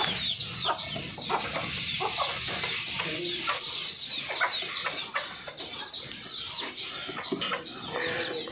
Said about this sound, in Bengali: দেখেছো পাখিরা, তোমার পাখিরা কত পুষ্টিকর খাবার খাওয়াচ্ছি